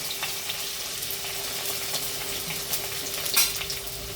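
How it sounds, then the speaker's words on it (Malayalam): Chopped garlic fries in oil and is stirred in a pan for a fish curry. It makes a steady, close sizzle with faint scrapes and one sharper clink near the end, and no one speaks. "വെളുത്തുള്ളി ഇട്ട് 10 നിമിഷം ഇളക്കി കൊടുക്കാം"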